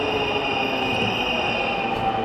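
A Dhaka Metro Rail train rolls into a station with a steady, loud rumble and a high whine close by.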